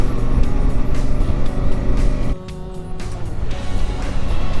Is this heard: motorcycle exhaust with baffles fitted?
yes